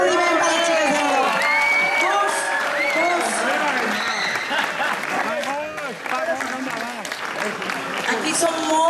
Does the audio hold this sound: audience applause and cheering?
yes